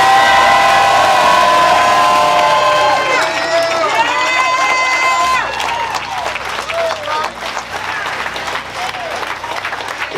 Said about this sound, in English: Cheer for the queens.